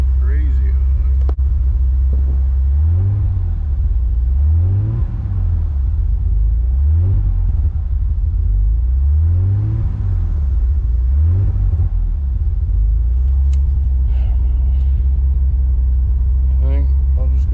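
A Nissan 300ZX drift car engine idles after its first start, a deep, steady rumble with several rhythmic rev swells, close and loud, with a few faint clanks and brief voices in the background.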